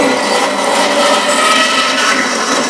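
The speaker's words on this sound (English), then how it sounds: "So carefully turn the bandsaw on" Bandsaw running as it trims the corners off a wooden bowl blank, a loud, steady whine and rasp of the blade in wood, close by and uninterrupted, with no talking.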